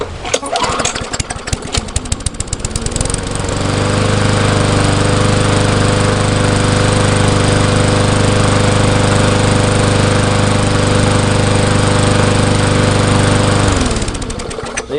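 A worn lawn mower engine sputters, then settles into a loud, steady, smooth drone without surging, holding close and constant for about ten seconds before winding down.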